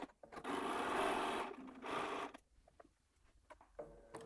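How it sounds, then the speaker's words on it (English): A sewing machine stitches quilt strips together for a Seminole block, one loud close burst of fast stitching, then a brief second run, followed by quiet handling clicks. "So I'm just going to sew all of those together to show you what I mean."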